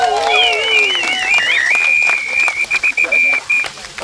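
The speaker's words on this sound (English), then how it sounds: "So give yourselves a huge round of applause." A crowd applauds at a Save The Trees march and rally, dense clapping mixed with whistles and cheering that rise and waver early on, then thin into scattered claps and bursts near the end.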